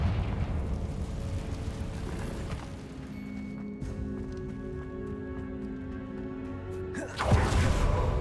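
Confringo fire spell in the Hogwarts Legacy game going off as a rumbling blast, with a low sustained roar and a sharp loud burst near the end, no voices over it.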